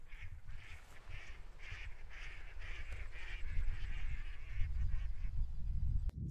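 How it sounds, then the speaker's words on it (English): Several ducks quack repeatedly at mid distance over steady outdoor rumble, likely wind, during opening morning of a duck hunt with decoys set out, the calls continuing throughout with a brief sharp click near the end. "There's a few ducks there."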